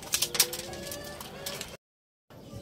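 A racing pigeon arrives home at the loft after release from Santa Ana, Cagayan, with bird calls and coos, wing flutters and a few sharp bursts near the start over steady background, then a short gap.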